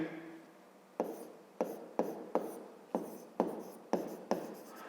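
Writing on a board during a fifth-grade maths lesson, a series of about eight quick, firm strokes and taps in a steady rhythm, close and crisp, with no talking over them.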